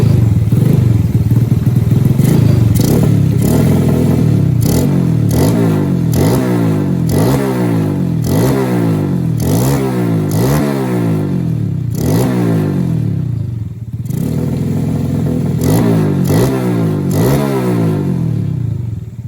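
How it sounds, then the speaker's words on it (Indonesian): A motorcycle engine fitted with a new magnet starts and idles loudly and close by, then revs repeatedly in rising and falling surges with a brief dip before picking up again. "kita akan coba hidupin motornya"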